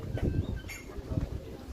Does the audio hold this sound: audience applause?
no